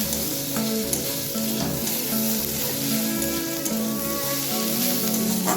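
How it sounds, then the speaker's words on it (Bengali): Ground spices stirred into onion and garlic frying in a pan, a loud continuous sizzle with soft stirring scrapes close by and a faint repeating tonal hum in the background, no talking. "এইটা এই পেঁয়াজ ভাজার ওপরে আর রসুন ভাজার ওপরে দিয়ে দিলাম, হালকা করে একটু নেড়ে নেব"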